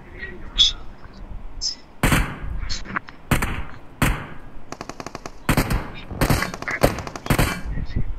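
Gunfire from the mobile battle royale game BGMI comes in sharp single shots and rapid automatic bursts spread across the clip, with a voice talking between and over the shots.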